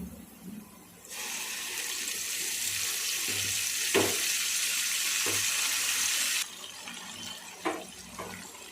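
Onions and curry leaves frying in a pan for a Rayalaseema-style tamarind-leaf dal: a steady, even hiss of sizzling that lasts several seconds, with a few soft knocks around it.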